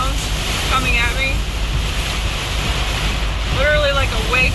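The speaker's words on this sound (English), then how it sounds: "This wind is so hard." Strong wind in a Florida thunderstorm with tornado warnings, roaring steadily and buffeting the microphone while rain sweeps across the ground, with high whistling gusts rising at the start and end.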